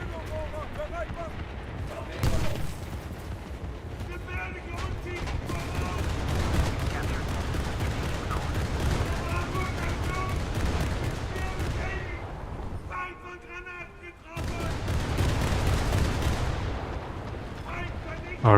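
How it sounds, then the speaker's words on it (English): Deep artillery fire and gunfire rumble through a naval battle game featuring the S-701 boat, heavy booms and rattling bursts repeating over a constant engine drone, with a player talking over parts of it. "Artillery got him."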